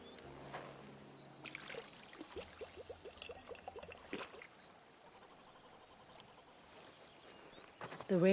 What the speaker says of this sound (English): Let's collect this water, shall we?